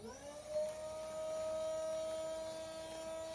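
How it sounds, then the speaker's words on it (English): A small cordless travel vacuum pump runs steadily while compressing a clothing bag, a close, continuous whine with a strong steady tone and hum throughout, no voices. "getting my little handy dandy vacuum, pressing it down around the ridge, and hitting power"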